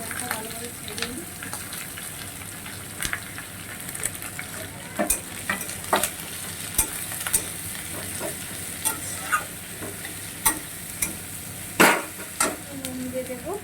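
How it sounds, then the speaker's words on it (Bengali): Onions frying in a pan for chicken kosha, a constant sizzle broken by repeated sharp scrapes and knocks of a spatula stirring at an uneven rhythm, close by, with a voice speaking briefly. "আগে পেঁয়াজটা ভালোভাবে ভেজে নিই।"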